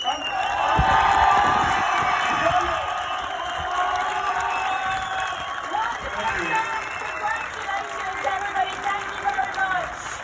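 A crowd at a rally award ceremony in Loutraki, Greece, cheers and claps loudly, with shouts rising and fading over several seconds while a voice speaks over the noise.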